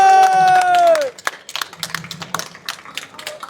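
Scattered claps from an audience at a trading card game convention, following a sustained tonal tone at the start, then thin, uneven hand claps and light crowd noise continuing to the end.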